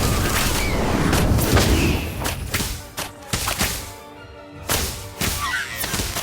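An Incendio fire spell is cast in a Harry Potter video game: a loud whooshing blast with sharp cracking hits and booming thumps, followed by scattered fiery bursts, with no talk.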